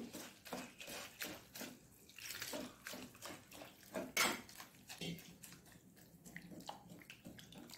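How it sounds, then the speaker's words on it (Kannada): Beaten rice (poha) rinsed by hand in a bowl of water, with rhythmic sloshing and splashing swirls close by, some faint clinks of the vessel, and no talking. "ಚೆನ್ನಾಗಿ ತೊಳೆದು ಇದನ್ನು ನೀರಿನಲ್ಲಿ ಚೆನ್ನಾಗಿ ತೊಳಿಬೇಕು"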